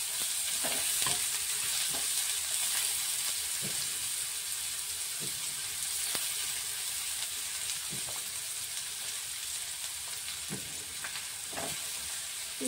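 Chopped onion frying in a pan for restaurant-style palak paneer, giving a constant hissing sizzle with scattered clinks and scrapes of a stirring spoon, close up and with no voices.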